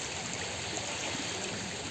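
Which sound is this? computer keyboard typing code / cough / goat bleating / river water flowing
river water flowing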